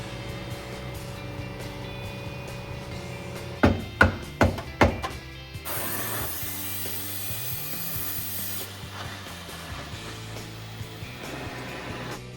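A ratchet wrench works loose the original upper control arm mount bushings on a 1994 vehicle, giving a burst of several sharp clicking strokes, followed by a steady whirring mechanical hiss.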